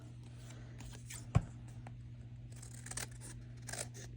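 Scissors trimming card paper for a holiday card: one crisp close snip, then faint paper rustles in a quiet room.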